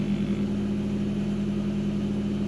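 A Mazda Miata engine idles steadily during warm-up, a continuous low, even hum with a faint mechanical pulse holding constant level throughout, no voices.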